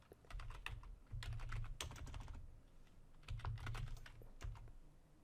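Typing a command on a computer keyboard on Windows Server, a quick run of soft, close key clicks in uneven bursts with short pauses, quiet and alone with no talk.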